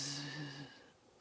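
A voice imitates a snoring camel with a single drawn-out, breathy, rumbling exhale that fades away over about a second.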